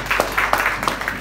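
Audience at a live comedy show breaking into applause, a brief burst of loud, closely spaced claps over a low steady hum, with no talking heard.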